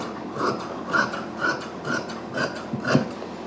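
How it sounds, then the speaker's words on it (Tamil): Scissors cutting through old saree fabric for a kurti, about six rhythmic snipping crunches spaced roughly half a second apart, close and clear with no voices. "இப்போ இது அப்படியே நீட்டாக ஃபுல்லாகவே கட் பண்ணிடலாம்"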